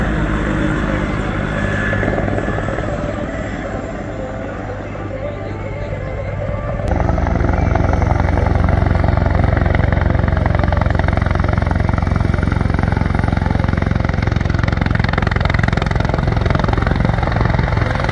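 A Griffin helicopter at an air show, its loud rotor and engine drone growing stronger and steadier after a few seconds, with an announcer speaking over the public address.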